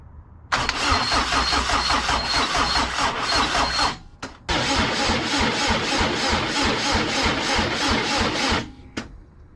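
A 1989 Honda Accord with a turbo engine swap runs hard under throttle, a loud raspy mechanical roar that cuts out briefly, returns with a sharp burst, and drops off near the end, close up with no talking.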